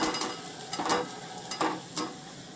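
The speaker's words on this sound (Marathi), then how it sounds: "अशा कलरमध्येच हा सगळा किस तळून घ्यायचा" Grated potato shreds fry in hot oil in a kadhai with a continuous close sizzle, broken by a few scraping stirs of a spatula at irregular intervals.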